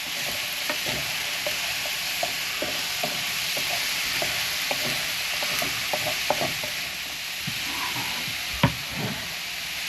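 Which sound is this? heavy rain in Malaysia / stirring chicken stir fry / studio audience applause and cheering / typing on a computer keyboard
stirring chicken stir fry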